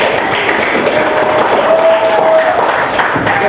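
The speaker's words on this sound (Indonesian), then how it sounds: "kita berikan tepuk tangan dulu untuk belajar" A classroom of students clapping together at the end of a lesson, dense continuous applause at close range with no pauses.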